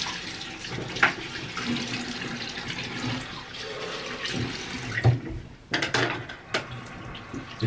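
A bathroom tap runs into a sink during tooth brushing, a steady close splashing stream broken by a few knocks and clatters near the end.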